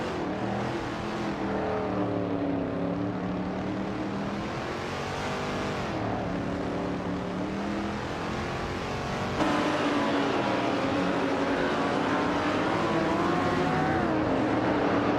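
Several race cars roar around a track in an online racing video game, engines droning steadily and shifting pitch as they accelerate, loud and continuous throughout.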